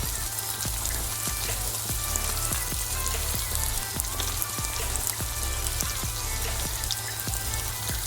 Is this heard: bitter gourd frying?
yes